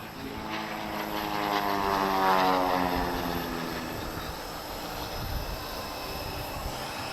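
A low-flying aircraft at an airshow in Alentejo sunshine, Portugal, drones past with a steady propeller-like hum that swells to a peak near the middle and then slowly fades, alone without talk.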